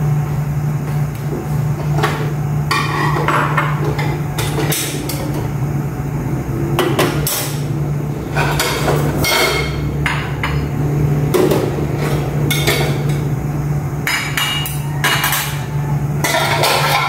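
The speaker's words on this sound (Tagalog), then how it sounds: "Ililigpit ko muna yung mga pinggan kagabi." Someone clears away last night's dishes, with steady clinking and knocking of plates, pots and utensils, plus an occasional cupboard bump, over a constant low hum.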